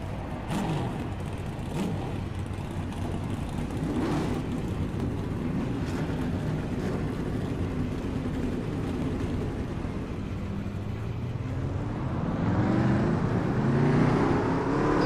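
Race car engines roaring in the iRacing sim at Daytona, a steady dense drone of many cars at once that swells louder near the end, with no voices over it.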